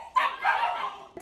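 Puppies in a shelter quarantine area let out a short burst of close, high yappy barks and yips, then a brief pause and one more small yelp.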